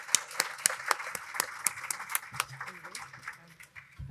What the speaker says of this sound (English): So a round of applause for our wonderful panelists.